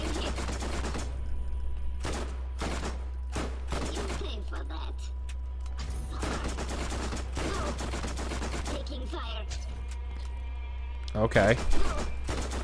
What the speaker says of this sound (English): Shooting her in the butt.